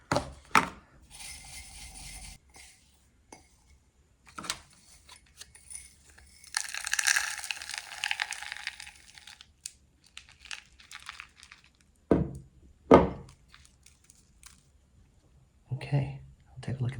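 Perlite being stirred and mixed for bonsai soil, giving dry crinkling, gritty rustles and a few scattered taps and clatters with some louder bursts, alongside occasional quiet speech.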